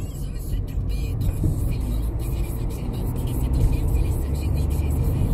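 A car engine drones steadily as it accelerates on a driving test, a continuous close rumble with road noise and a voice speaking over it.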